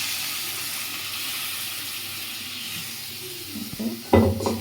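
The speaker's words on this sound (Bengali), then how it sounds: "এখন একটু জল দেব, একটু জল দিয়ে হালকা" Water poured into a hot pan of frying cardamom and cinnamon: a steady, close sizzle that swells into a louder hissing, bubbling burst at the end.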